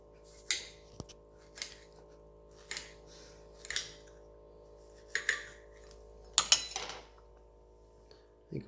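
A knife slices through a strawberry on a board in a series of separate cuts, short crisp taps and scrapes spaced about a second apart, close and fairly quiet.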